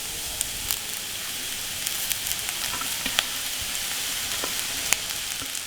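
Cooked rice and egg stir-fry in a hot pan for street-style egg rice, a steady bright sizzle with scattered scraping clicks of the spatula, close and continuous with no talking.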